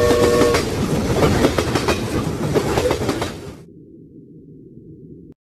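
A train rumbles past with rhythmic clattering wheels and a brief horn toward the start, loud and steady before cutting to a low hum.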